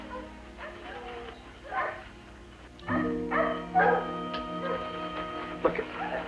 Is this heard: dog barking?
yes